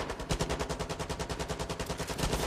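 Rapid machine-gun fire in a PlayStation shooter, a dense continuous burst of evenly spaced shots filling the whole stretch, loud and close.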